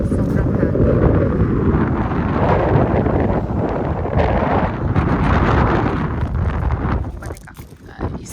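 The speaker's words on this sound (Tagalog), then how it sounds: "Sobrang hangin." Strong wind buffets the microphone at the seaside on Hayling Island at sunset. A loud, continuous, rumbling roar lasts the whole stretch, and a voice may be faintly present beneath it.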